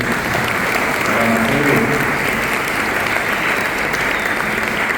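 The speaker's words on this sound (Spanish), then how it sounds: "Yo le pido un aplauso a Alfredo." Audience applause for Alfredo Baez Núñez at an Emiliano R. Fernández commemoration week event in Guarambaré, steady dense clapping from a large crowd filling the whole stretch without pause.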